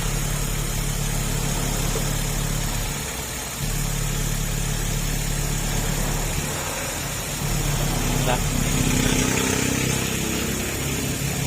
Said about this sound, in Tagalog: Tahimik na tahimik po yung makina nito mga sir.